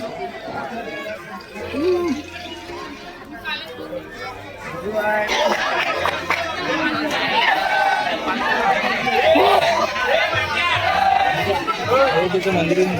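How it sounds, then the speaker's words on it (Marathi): A dense crowd murmurs at Ekvira temple in Lonavla, with overlapping voices and children's calls. The chatter thickens and grows louder partway through, then holds as a steady, busy wash of nearby talk. "गर्दी बघू शकता, गर्दी केवढी आहे"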